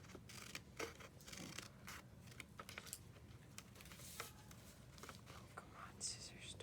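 Scissors snip through paper and a card tab while a small diorama is built, giving quiet, close, uneven cuts and rustles under soft whispered talk.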